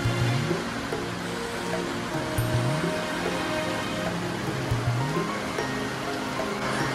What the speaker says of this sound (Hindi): तो गाइस बारिश बहुत देर जोर से आ रही है।